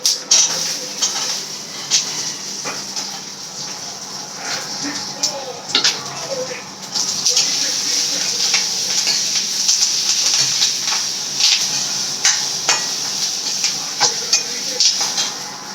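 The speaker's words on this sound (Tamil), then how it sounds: "பூண்டு, இஞ்சி, சின்ன வெங்காயம் எல்லாத்தையும் போட்டு வதக்கணும்" Garlic, ginger and shallots sauté in a hot pan for a gravy, giving a steady close sizzling hiss broken by occasional stirring clinks and scrapes.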